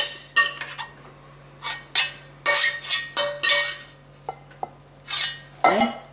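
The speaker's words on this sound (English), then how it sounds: "It's a very heavy pan" A big, heavy metal pan with handles clanks and scrapes nearby in irregular bursts while pasta fagioli soup is made, with clinks and a scraping slide against a surface.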